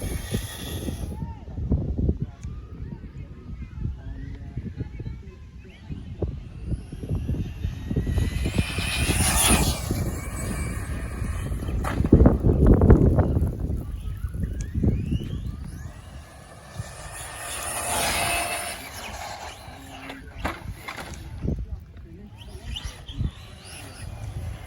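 A brushless 1/10 Select Four 10SC 4WD RC short course truck makes high-pitched motor whines as it makes passes at speed, approaching and fading several times, with outdoor background noise between runs.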